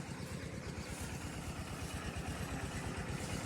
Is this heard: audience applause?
no